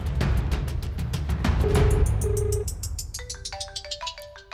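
A phone rings while a call is placed to an office, its electronic ringtone tones repeating in a steady pattern over a fading low music bed, with no talking.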